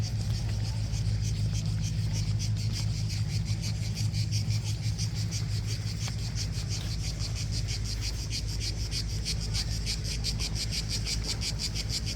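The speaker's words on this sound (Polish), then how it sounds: "Ale słychać cykady?" Steady, dense cicada chirring with a fast pulsing rhythm runs throughout, outdoors on the Croatian coast, over a constant low hum.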